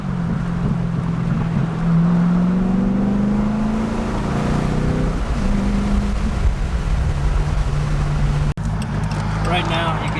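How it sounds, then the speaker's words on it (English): A C5 Corvette V8 with a modified exhaust idles with a steady, low, throaty rumble up close while people talk over it, with a brief bump in the middle. "Right now, you can hear it just idling."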